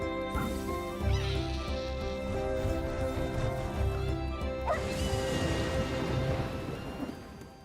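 A dog barks in the Hurdles video game trailer, set in a vibrant landscape. The barks come amid dense, loud music and crashing effects.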